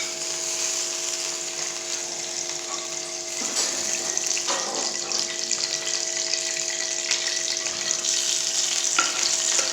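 Ghee heating in a kadhai gives a steady, close hissing sizzle throughout, with a few faint scraping knocks and a constant tonal hum in the background.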